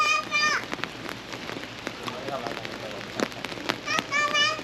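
Rain falls steadily outdoors during a stormy mountain trip in Europe, a dense close patter with scattered louder drops, and voices speak at the start and end.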